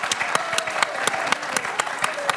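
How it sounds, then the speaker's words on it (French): Quiz-show audience in a studio applauding and cheering on a contestant during a final, a steady close patter of clapping with sharp individual claps standing out and crowd voices underneath. "Et les applaudissements, les encouragements du public pour Benoît."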